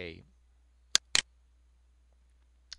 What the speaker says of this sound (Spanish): lo voy a guardar a mi computadora, hago clic en OK